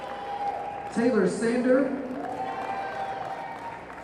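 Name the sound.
crowd applauding volleyball players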